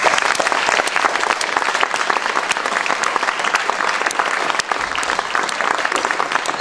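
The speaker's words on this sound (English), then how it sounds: "they deserve certainly a large round of applause" An audience gives sustained, even applause for students at a presentation event. Many hands clap in a dense, close wash that holds steady throughout.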